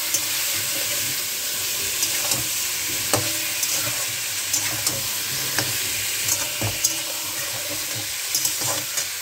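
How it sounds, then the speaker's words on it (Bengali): Chicken pieces fry in a pan with fried onions, a steady loud sizzle broken by repeated scrapes and clacks of a spatula stirring, close up and without talk. "ভাজা পেঁয়াজটার সঙ্গে একটুখানি চিকেনগুলোকে ভেজে নেবো"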